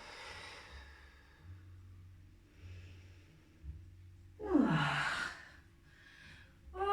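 Deep breathing in and out during yoga practice, soft and close, with one fuller audible exhale standing out among quieter breaths.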